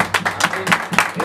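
Scattered, uneven clapping from a small audience at a mariachi birthday performance, close and moderately loud, with bursts of claps in an irregular rhythm.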